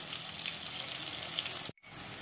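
Tomatoes fry in oil with salt and turmeric, giving a steady, soft hiss of sizzling that cuts out abruptly for a moment before resuming.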